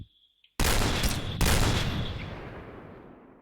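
A sudden burst of rapid gunfire erupts in a clan-match shooter game after a faint electronic tone, then dies down into a long reverberating tail.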